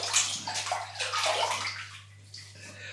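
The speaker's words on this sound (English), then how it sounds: "that's going out the plug hole, or going down the plug hole even" Water from a bathroom sink drains down the plug hole after shaving, with close, gurgling sloshes and trickles that fade slightly toward the end.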